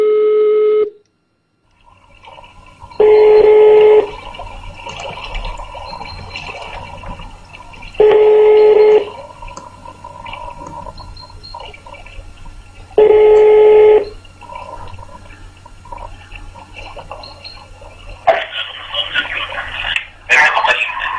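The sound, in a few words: telephone ringing tone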